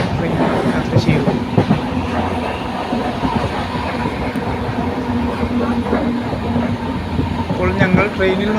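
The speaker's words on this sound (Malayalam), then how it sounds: "ഇപ്പോൾ ഞങ്ങൾ ട്രെയിനിൽ കയറിയിരിക്കുകയാണ്" A passenger train bound for Kottayam rumbles along with steady rolling noise and wheel clatter on the rails, heard from inside the carriage, with occasional voices beneath.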